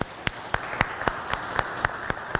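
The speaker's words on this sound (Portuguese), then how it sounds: "Eu peço que a comunidade dê uma salva de palmas para os nossos convidados." Claps ring out for guests at a church community's Reformation Day talk show evening, sharp evenly spaced strokes landing in a steady rhythm over a hushed room.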